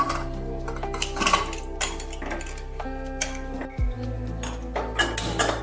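A metal lid goes onto a cooking pot of potatoes with a little water, about to be steamed in a home kitchen. Close, quiet clinks and clatters of metal cookware come with no talk.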